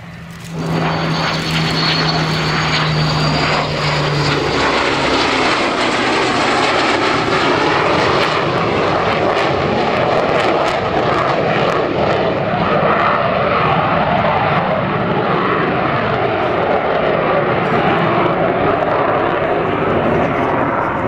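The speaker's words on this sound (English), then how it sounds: "So here we are, the first display of the season for Sea Vixen." A de Havilland Sea Vixen twin-engine jet flies a display at an air show, its engine roar rising quickly and holding a loud, continuous rushing drone throughout.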